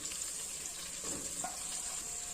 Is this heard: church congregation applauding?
no